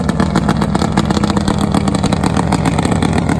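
A nitro Harley drag bike engine roars loud and close through a race run, a dense, steady, pulsing clatter that holds without a break.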